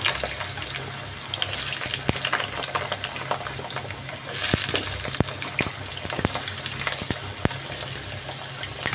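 Potatoes and vegetables fry in hot oil in a wok with a steady, close sizzle and scattered sharp crackles and pops throughout, no talking.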